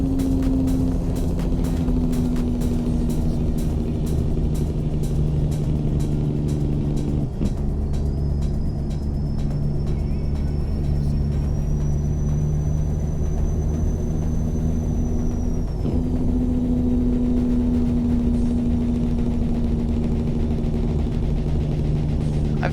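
A truck engine drones steadily while driving through Arizona in a truck simulator game, a constant low hum with a faint high whine rising midway, no talk over it.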